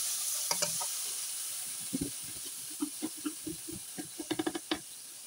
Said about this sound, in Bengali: এবার পেঁয়াজ ভালোভাবে একটু কষিয়ে